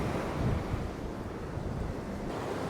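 Large sea waves surge over the shore at Point Pedro in Jaffna, a continuous heavy roar of surf mixed with strong wind buffeting the microphone, with no voices.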